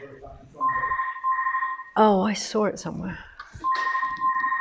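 A telephone rings with a steady electronic tone that repeats in even bursts, audible before and after a stretch where a person speaks over it.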